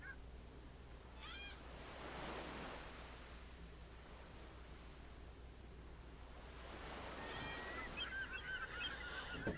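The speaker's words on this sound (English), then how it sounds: "Seagulls!" Seagulls cry out in a Second Life virtual island setting, a few scattered bird calls drifting over a steady wash of surf-like ambient noise, fairly distant and soft.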